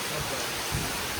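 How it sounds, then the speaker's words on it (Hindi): Dense, steady hiss of heavy rain falling all around at a resort in Kakkadampoyil, Kerala, loud and continuous with a faint low rumble underneath. "देखो फुल बारिश पड़ रहा है"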